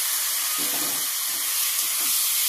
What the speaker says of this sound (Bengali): তো এই যে মাংসগুলো দিয়ে দিলাম।